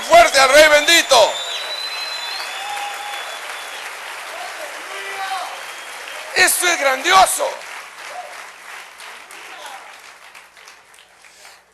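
Church congregation applauding at a sermon, a broad wash of clapping throughout, with a voice speaking loudly over it at the start and again partway through.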